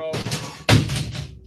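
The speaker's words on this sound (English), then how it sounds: "that was the sound of a fan falling off the table." A fan tumbles off a table in a spray-painting workspace, a sudden close thud and clatter midway through, ringing briefly, amid a hiss of background noise and a short spoken exclamation.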